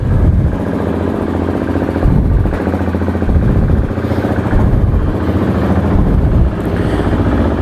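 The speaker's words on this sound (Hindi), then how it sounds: "बाइक स्टार्ट कर लेते हैं, बाहर निकाल लेते हैं।" A KTM RC 390 motorcycle engine runs loud and close, a rough, throbbing idle that rises in repeated short swells.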